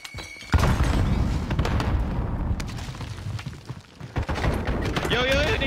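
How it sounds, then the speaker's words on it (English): Explosion and gunfire in Call of Duty Warzone: a thrown grenade blasts after a sharp onset, followed by sustained bursts and booms at loud level, with players talking excitedly over the game sounds. "Throwing grenade!"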